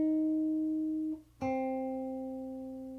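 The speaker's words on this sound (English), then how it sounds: "I wanted to add some more guitar layers to it, so then I added this really simple line right here." A simple guitar line processed with an RC20 lo-fi effect for a lofi beat, two sustained notes separated by a short dip, then a brighter struck note ringing out alone and slowly fading.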